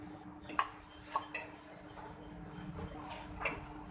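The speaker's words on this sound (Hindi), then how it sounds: "इस तरह से आपने एक हाथ से स्पून हिलाना है और एक हाथ से कस्टर्ड डालते जाना है।" A spoon stirs custard in a pan, giving faint, intermittent metallic clinks and scraping against the pan with soft kitchen background.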